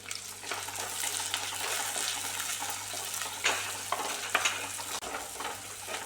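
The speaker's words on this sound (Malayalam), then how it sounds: "ഇത് മൂത്ത് വന്നിട്ട് നമുക്ക് ചെറുള്ളിയും കൂടി ഇടാം" Shallots fry in a pan with a steady, close, bright sizzle, broken by a few soft scrapes and taps of stirring.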